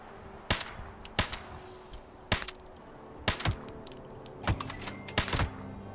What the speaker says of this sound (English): This thing fires so fast I can't even tap fire it.